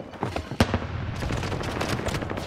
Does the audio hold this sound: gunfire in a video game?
yes